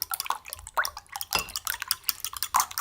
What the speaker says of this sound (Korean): 잘 저어주세요.